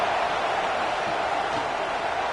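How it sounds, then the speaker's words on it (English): Stadium crowd noise in an NCAA football video game during a CPU dynasty match: a dense, steady roar of many voices holds at a constant level throughout. "This crowd bringing the energy and noise early."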